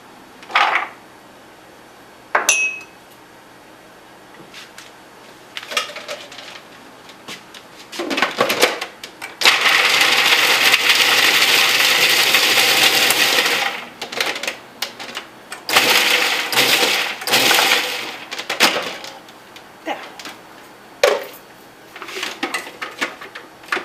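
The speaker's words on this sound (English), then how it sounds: "But it's even easier to throw them in the food processor." Food processor chopping walnuts and almonds, with a sustained whirring burst in the middle framed by scattered clacks and rattles of the nuts going in.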